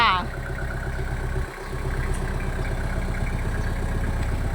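A used Kubota M5000 tractor engine idles with a steady, low, pulsing chug, while someone talks over it nearby.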